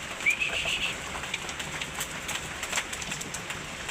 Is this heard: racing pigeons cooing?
yes